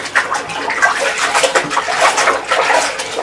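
Water splashes and runs steadily while a whiteboard is cleaned, a continuous close-up wet scrubbing and trickling sound with no talk over it.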